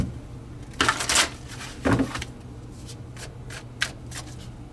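Tarot cards being shuffled by hand in a few quick riffling bursts, followed by lighter taps and shuffles, close up and with no talk.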